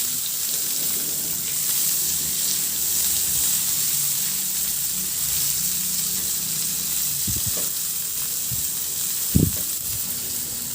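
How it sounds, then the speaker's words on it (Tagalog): Chopped garlic and onion sauté in a pan of oil left over from frying fish, giving a steady close sizzle with a brief utensil knock near the end. "Binawasan ko lang yung mantika at igisa ko na rin yung bawang. Ilagay ko na rin yung sibuyas."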